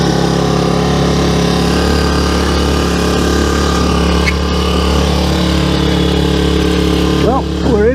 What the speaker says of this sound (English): got this tiny little lawn trimmer motor here attached to a propeller